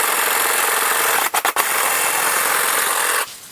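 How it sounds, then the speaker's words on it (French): Cordless pruning shears run with a steady, bright electric whir while cutting garden branches, a few quick clipping snaps breaking the hum midway before the motor winds down near the end. "la lame permet de couper des branches jusqu'à 20 mm de diamètre"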